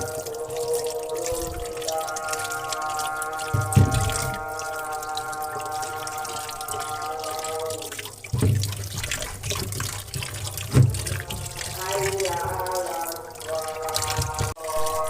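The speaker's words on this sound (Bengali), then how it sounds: "আমি লেবুগুলো ভালো করে ধুয়ে নিব।" Lemons are washed under running tap water in a sink, a steady splashing stream with a few louder clunks and sloshes as the fruit is handled, heard up close without talk.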